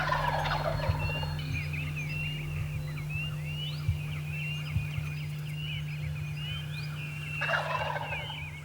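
A wild turkey gobbles twice in an open field, once near the start and again near the end, moderately distant over a steady low hum and soft bird chatter.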